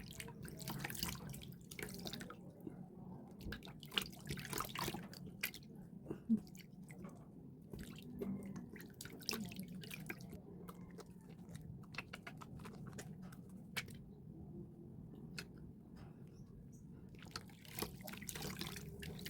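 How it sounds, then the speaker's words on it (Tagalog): Water splashes and drips as a face is washed after a mango and egg white mask, soft irregular splashes and patters over about twenty seconds, faint and close with no talk. "So, maghugas na po tayo ng ating mukha."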